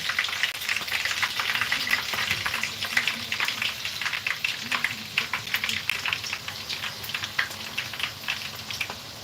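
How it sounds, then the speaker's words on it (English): Spoonfuls of batter sizzle and crackle in hot oil in a pan, a dense, steady frying hiss with small pops throughout, close and continuous. "The oil is hot, so I'm going to be using this spoon to just drop in"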